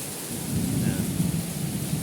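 Heavy rain falls steadily with a deep, rolling rumble of thunder underneath, broad and continuous, with no voices.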